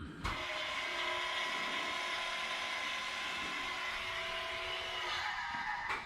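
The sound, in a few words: car engine cold start with exhaust cutout open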